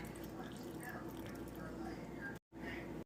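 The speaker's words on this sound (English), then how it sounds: "Squeeze and take the tamarind juice of small lime size." Wet, squishy squeezing as tamarind juice is pressed by hand into a tomato mixture for dal rasam, a steady close-up mush with a low hum underneath and a brief dropout near the end.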